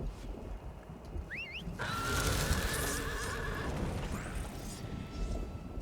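A horse in the video game Elder Scrolls Online gives a short rising whinny early on, followed by a wash of game ambience and faint clopping, with some talk over it.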